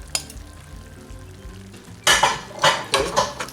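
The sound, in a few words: stirring steak, onions and mushrooms in a pan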